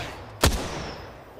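A single loud shotgun blast from an EVA shotgun rings out in a video game match, a sharp close report over a low background hum that quickly fades.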